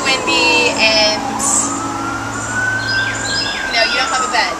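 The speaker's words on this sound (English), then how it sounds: "there's sirens going off" A wailing siren rises and falls in the distance beneath steady wind and background noise, with a faint voice speaking briefly.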